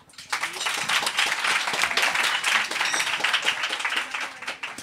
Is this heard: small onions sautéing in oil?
no